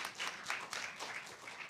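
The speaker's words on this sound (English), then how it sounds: "Can we also give a round of applause to our judges" An audience applauds the judges at the final round of a trial competition, a steady burst of clapping from many hands that carries through the whole stretch at moderate distance.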